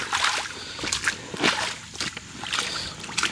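CAT Threshold Rebound work boots wade into a creek, giving several irregular close sloshes and splashes as water churns around each step, at a fairly low level.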